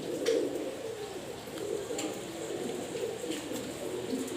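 A teddy female pigeon coos softly in low, rolling murmurs, close and continuous with little else around it.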